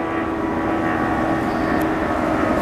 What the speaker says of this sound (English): You got planes taking off!